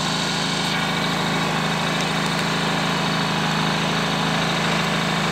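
A Fubag TI 2000 gasoline inverter generator runs steadily at a constant idle-like drone, loud and close, with a continuous buzzing engine tone and no speech.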